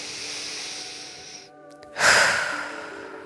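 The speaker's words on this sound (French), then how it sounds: "une fois que tu as pris quelques grandes respirations comme ça" One slow, deep breath, close to the mic: a long airy inhale, a brief pause, then a louder, breathy exhale that fades out.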